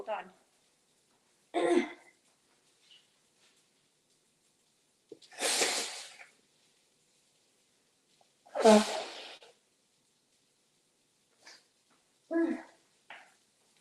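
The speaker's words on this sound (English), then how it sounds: "I gotta blow my nose again." A person blows their nose several times in loud, forceful bursts separated by silence, with a few quieter snorts and a brief spoken word among them.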